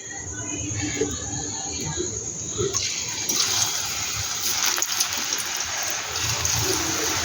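Hot oil spitting and sizzling as spoonfuls of batter drop in for a Bengali evening snack, a steady dense crackle with brief louder spurts, continuous and close throughout.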